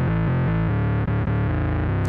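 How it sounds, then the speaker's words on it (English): Serum's effect rack processing a dub melody with distortion, EQ and a filter whose frequency is automated, giving a loud, dense, gritty tonal line with stepping notes that runs continuously, with a brief dip partway through. "Now there's some distortion, some equalizer, some filter, and I also write some automation on the frequency."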